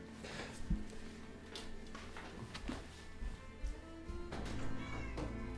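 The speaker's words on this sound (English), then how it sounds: "I have to feed my cats. Because I hear them yelling." Several pet cats meow and yowl loudly at close range, repeated cries rising over a steady background hum, as if demanding food.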